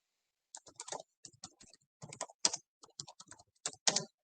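Rapid typing on a computer keyboard during a chemistry lecture, delivered in irregular bursts of close, crisp key clicks with short pauses between runs.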